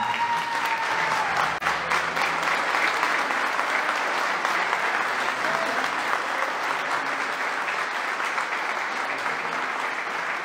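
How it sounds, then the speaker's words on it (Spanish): A concert audience in Zapotlanejo gives loud, sustained applause, a thick continuous roar of clapping hands with faint crowd noise and a brief tone near the start. "les pido un fuerte aplauso"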